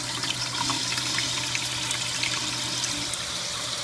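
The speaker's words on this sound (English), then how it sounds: "Product water is being produced." Water flows steadily through a reverse osmosis system as product water is produced, with the pump fed at 30 psi and putting out about 65 psi, making a continuous close hiss and trickle over a low steady hum.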